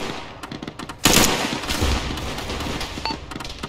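Gunfire in a military shooter game, a sudden loud burst that rings out and then gives way to a sustained rumble of continued firing.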